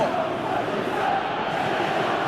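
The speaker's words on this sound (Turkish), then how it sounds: "Bu çalım tribünlerden alkış aldı." Stadium crowd in the PES 2017 football video game, a continuous dense roar of fans cheering and applauding at a steady level throughout.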